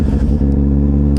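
A 2016 motorcycle engine revs steadily while riding, a loud close-up drone with strong harmonic throb and a brief clatter, heard alone.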